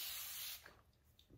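A purple doTERRA aerosol-style spray bottle filled with water gives one close, steady hiss for about half a second, then stops, leaving faint room sound.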